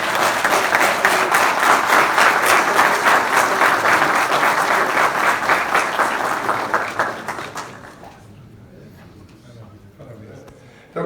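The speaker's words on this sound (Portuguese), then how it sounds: "As palmas do senhor Jorge." Audience applause at a legal seminar, a dense, steady burst of many hands clapping that carries loudly for about seven seconds before fading to quiet room tone.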